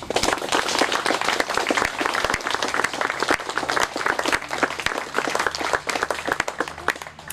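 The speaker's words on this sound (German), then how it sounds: "Es wäre jetzt ein Applaus wert" Sustained applause from a crowd at an open day for a miniature railway, dense and steady clapping throughout with a faint low hum underneath and no talk.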